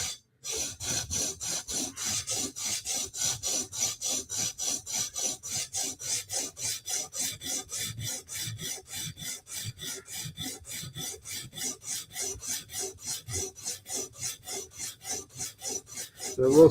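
Steady back-and-forth strokes of a blade bevel being ground on a sharpening stone, a close, rhythmic rasping that repeats about twice a second with no talking.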